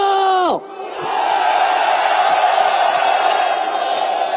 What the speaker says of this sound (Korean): 다 같이 함성을 해주십시오.